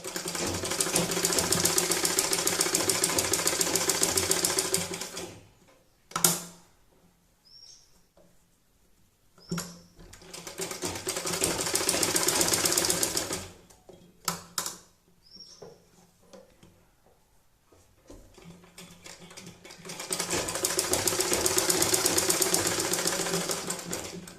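Sewing machine stitching a fabric patch onto a rabbit hat, running in loud continuous bursts separated by quiet pauses and brief clicks as the cloth is repositioned.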